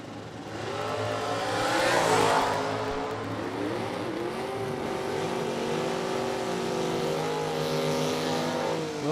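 A Firebird and a 1996 Mustang launch in a drag race, their engines roaring loud and close. The roar swells early, then holds as a sustained, wavering drone with shifting engine pitch. No one speaks.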